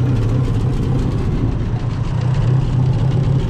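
A 1955 International 300 truck engine idling close up, a steady low rumbling chug with even firing pulses throughout and no talk.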